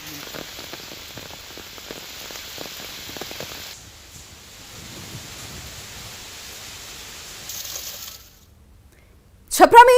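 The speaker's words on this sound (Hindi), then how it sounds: "छपरा में यास तूफान की वजह से तेज बारिश हो रही है" Heavy rain pours down in Chhapra during Cyclone Yaas, a steady hiss of drops on surfaces that softens partway through, fades out near the end, and gives way to a sudden louder burst.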